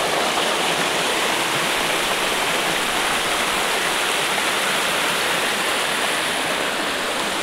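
A waterfall beside a beach roars in a loud, steady broadband rush of falling water, constant and close for the whole stretch with no talk.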